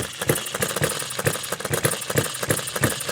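A Retrol Musa HM-01 hit-and-miss four-stroke gas engine running nearby with a steady, rhythmic thumping beat, a mechanical rattle and vibration running under each firing stroke.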